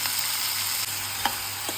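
Ginger and garlic frying in a pan for paneer butter masala make a continuous close sizzle with a few faint stirring scrapes and no talking.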